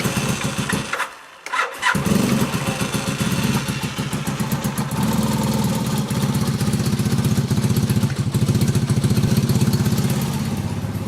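A small two-cylinder engine on full choke runs rough on one cylinder, a loud uneven chugging idle with rapid irregular pulses, briefly stumbling near the start before settling into a lumpy rhythm.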